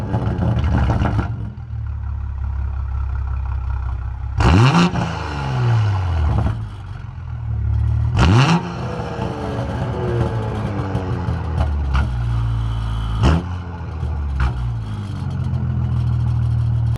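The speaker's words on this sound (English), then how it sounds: "this is going to be a warm start in non-sport mode and some revs" A Toyota MK5 Supra with a Tomei Type-R single-exit titanium exhaust idles warm in non-sport mode, then gives several sharp revs that rise and fall back to a steady, close idle.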